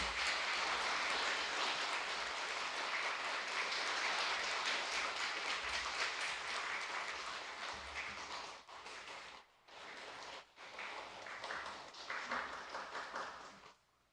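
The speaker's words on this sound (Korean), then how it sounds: "힘찬 박수로 맞이하겠습니다." An audience at a Korean cultural lecture event applauds to welcome the speaker, giving a dense, sustained wash of clapping that thins and breaks up toward the end.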